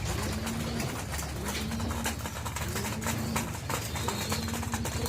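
Racing pigeons coo in repeated soft low calls while they feed, with faint pecking clicks and scuffling close by under a quiet background.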